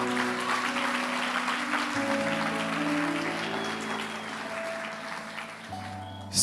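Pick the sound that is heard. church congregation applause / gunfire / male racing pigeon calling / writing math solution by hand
church congregation applause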